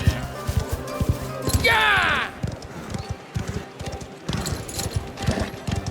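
Horse hooves clip-clop in a steady galloping rhythm in a Mafia: The Old Country game scene, with a sharp burst of noise midway and voices talking over the hoofbeats throughout.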